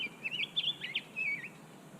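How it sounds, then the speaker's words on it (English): Small birds chirp on a farm in quick, high twittering bursts, faint and fairly close, with a short pause between two clusters of calls. "So many birds here."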